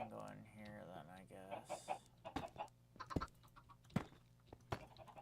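Chickens in Sky Factory 5 cluck in short, repeated bursts, fairly quiet game sounds layered with other brief effects.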